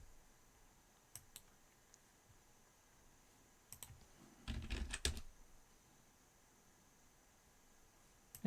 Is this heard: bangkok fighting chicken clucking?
no